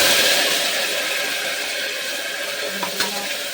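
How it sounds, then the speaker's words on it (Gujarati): Onions fry in hot oil with cumin, mustard seeds and coriander for a chickpea and cauliflower shaak, a loud, steady, close sizzle with a faint clink near the end. "ડુંગળીનો આપણે વઘાર કરવાનો છે"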